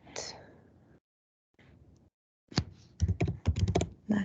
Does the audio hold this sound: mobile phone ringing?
no